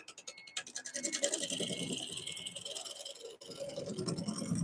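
Wood turning on a lathe for a pen or bowl, a light cut giving a raspy, rapidly pulsing scrape that starts faint, grows louder and continues with a brief break midway.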